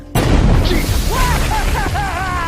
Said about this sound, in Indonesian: tiba-tiba sebuah ledakan mengalihkan perhatian mereka.